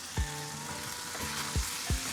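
Beans frying in a pan with chili and onion, a steady hiss of sizzling with a few soft stirring scrapes, close and moderately loud, no talking.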